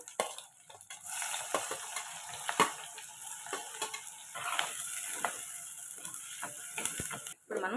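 Sliced onions sizzle in oil in a pan with green chillies and curry leaves, making a low continuous frying hiss broken by light ticks and stirring scrapes; quiet and close, no talking.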